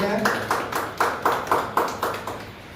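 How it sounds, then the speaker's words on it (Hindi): Rhythmic unison clapping at an award ceremony, about two claps per second in even loud bursts from a crowd keeping time together, with no voices over it. "जोरदार तालियां शिव शक्ति सिंह के लिए"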